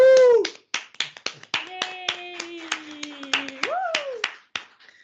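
Handclaps ring out at the closing ceremony of an AI4SocialGood makeathon to honour the winning team. The claps are loose and scattered rather than a full roar, and a voice calls out and cheers over them.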